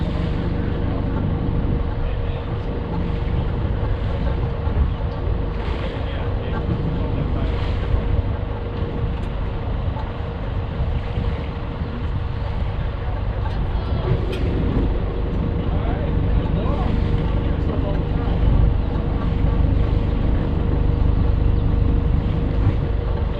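Sailboat engine idling in neutral, a steady low rumble on the water with wind buffeting the microphone; no one speaks.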